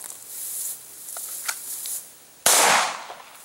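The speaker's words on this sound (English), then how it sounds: "So I'm going to draw, make my shot count, and take time to get my sights on target before I get a round off." A pistol fires a single sharp shot at a balloon target on an outdoor range during a drawing exercise, a loud crack near the end after quieter background noise.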